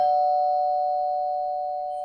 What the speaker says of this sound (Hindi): किसी ने मेरी डोरबेल बजाई